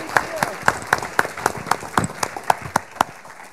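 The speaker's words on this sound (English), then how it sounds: "I'd like to ask you to give our panel a real round of applause." At a symposium on the politics of racial representation, an audience claps for a panel in a short, even, nearby burst with a steady rhythmic beat.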